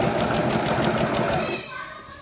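A Brother GS1700 sewing machine stitching a buttonhole, a rapid, near mechanical whirring with fast regular needle pulses that stops abruptly after about one and a half seconds.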